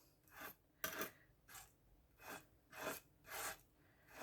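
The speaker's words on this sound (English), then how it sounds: "you just want to scrape the gel on top of this" Flat tool scraping gel across a palette for nail foiling, six soft rasping strokes in an even rhythm, close and quiet with pauses between each pass.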